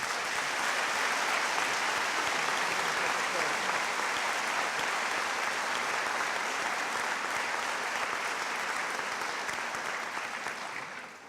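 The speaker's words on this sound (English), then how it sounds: "Thank you for helping me applaud Mr. DeBusk." Sustained applause from a large commencement audience honoring an honorary Doctor of Humane Letters recipient, dense and steady clapping filling the hall for about eleven seconds before tapering slightly at the end.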